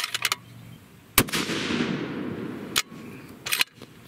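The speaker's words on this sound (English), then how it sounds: "We're gonna go ahead and shoot this fourth one." A lightweight custom 7mm PRC rifle fires a single loud shot during powder load testing, a sharp crack followed by a long rolling echo outdoors, with a few clicks and knocks before and after.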